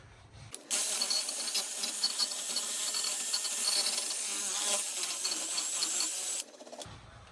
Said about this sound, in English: now we're gonna take a wire brush and clean up this mating surface on the hub.